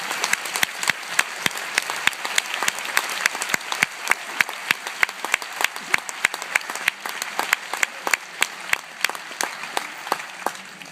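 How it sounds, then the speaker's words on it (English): Graduation audience applauding at a valedictory ceremony, a steady crowd of many hands clapping with dense, sharp claps throughout, moderately loud and continuous with no talk over it. "let us now give each other a round of applause"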